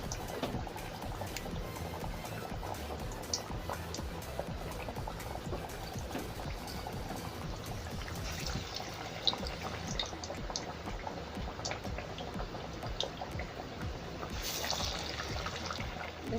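Aloo chop potato fritters deep-fry in hot oil with a dense, steady bubbling sizzle that stays close and even throughout, with faint clicks and no voices.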